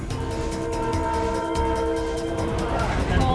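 PNR passenger train running on Philippine rails, a loud continuous rumble of wheels and carriage with steady tonal horn or brake tones throughout, heard from close by with no talk.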